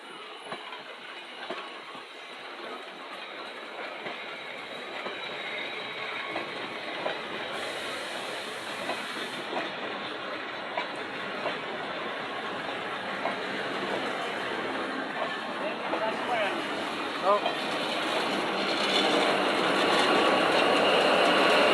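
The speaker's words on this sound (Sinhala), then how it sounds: "ඔන්න කෝච්චිය එනවා." A train hauling loaded stones from Kadugannawa rolls past, giving a long rumbling clatter of wheels on rails with hissing and rattling that grows steadily louder and closer over about twenty seconds.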